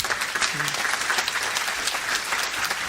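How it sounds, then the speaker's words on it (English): Audience applause at a keynote conference session in Charlotte, a steady even wash of many hands clapping for the whole stretch, moderately close, with no voices over it. "How about a round of applause for Rick?"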